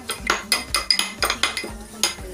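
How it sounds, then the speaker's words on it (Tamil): Repeated rhythmic pounding of ginger and garlic into paste, about eight sharp knocks with a clinking, hollow edge, close and steady, with no talk. "எங்கள் வசிம் பார்த்தீங்கன்னா இஞ்சி பூண்டு பேஸ்ட் வந்து இடிச்சுட்டு இருக்கான்."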